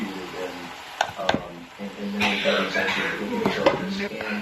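Pancit canton noodles are stirred and tossed in a sizzling pan, with utensil scrapes and clinks against the metal amid steady frying, while a person talks nearby.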